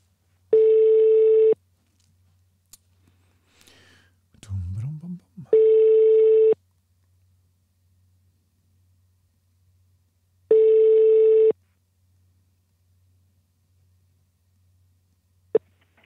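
Telephone ringback tone on a call, three long steady tonal rings with long pauses between them, a brief rustle and click in the gap between the first two.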